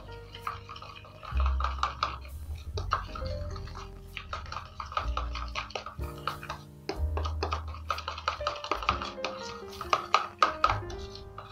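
A spoon stirs warm milk and cocoa powder in a bowl, clicking and tapping against the sides in a quick, uneven rhythm over a low background hum.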